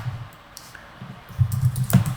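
Computer keyboard typing while a command is entered in Java code, a short run of soft, close keystrokes that cluster more densely toward the end.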